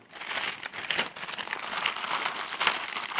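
A small, pretty plastic bag crinkles and crumples as it is carefully opened, a continuous close-up rustle with sharper crackles throughout.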